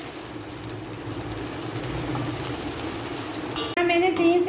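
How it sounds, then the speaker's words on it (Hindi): Garlic and spice masala fry in a pan for a beef kofta curry, giving a steady close sizzle with stirring that shifts abruptly near the end. "अब हम 3 से 4 मिनट इसकी अच्छे से करेंगे फ्राई इसको, ताकि इसकी स्मेल ख़त्म हो जाए।"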